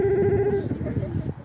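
A voice imitates a long telephone bell, holding a steady sung tone before breaking into a wavering ring, with other voices murmuring underneath.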